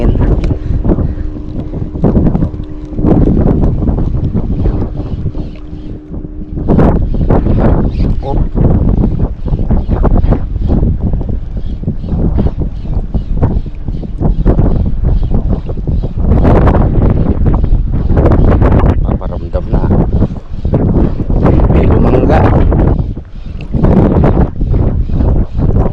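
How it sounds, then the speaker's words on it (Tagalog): Strong wind buffeting a fishing boat at sea, loud roaring gusts with rumbling water and hull noise, with voices talking intermittently over it. "Buti na lang palaot yung hangin."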